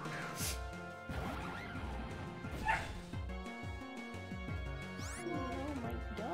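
A dog-like Pokemon cry in a spooky-themed Pokemon game: a short bark and whimper mixed into busy, layered game music, with no talk.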